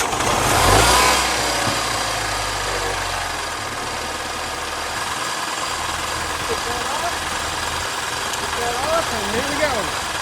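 A car with a dead battery is jump-started using a LIFMOCER GS300 jump starter; the engine cranks and catches loudly near the start, then settles into a steady close idle, with voices talking over it.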